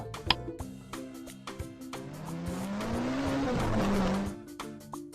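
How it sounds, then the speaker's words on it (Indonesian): A car engine rises in pitch as it speeds up, then the tyres squeal sharply for about a second, set against light background music. "mobil,"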